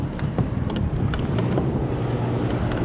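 Gusty wind buffeting the microphone on a small homemade sailboat, over a low rumble of water and boat movement, steady and fairly loud.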